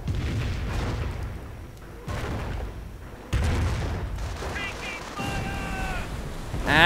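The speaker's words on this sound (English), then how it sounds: "And now we actually hear the Nebelwerfers fire once more." Nebelwerfer rocket artillery fires in a World War II strategy game, several heavy booming launches and impacts arriving in bursts over rumbling battle noise, with other game sounds mixed in.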